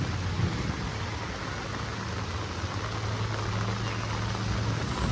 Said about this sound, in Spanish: Así es como llueve en Huajuapan, así es como la tromba